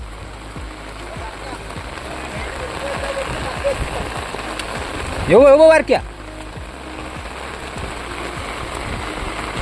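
Steady rain falls outdoors in the Konkan countryside during a crab-catching outing, a constant hiss throughout with people talking over it and a brief louder noise midway.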